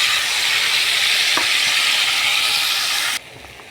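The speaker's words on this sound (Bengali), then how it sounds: "ভালোভাবে কড়াইতে নাড়তে চাড়তে হবে যতক্ষণ না পর্যন্ত শুকনো হয়ে আসছে" Banana flower paste frying and being stirred in a wok, a loud steady sizzle with a scrape of the spoon partway through, close up, before the sizzle abruptly drops to a quieter hiss near the end.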